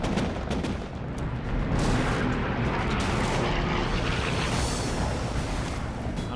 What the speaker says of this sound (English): First, the main battery, 5-inch radar-directed guns.